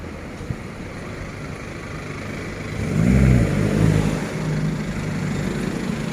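A car rumbles as it is driven toward a PT petrol station to park, engine noise steady and near, swelling louder in the middle as it accelerates past, then settling back to a constant drone with no talk.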